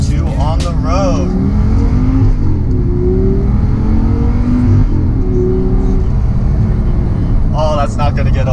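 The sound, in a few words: Audi R8 engine starting and revving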